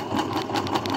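A Janome sewing machine stitches a few short loops on fabric, its motor whirring steadily with a rapid, even needle rhythm throughout a brief, close burst.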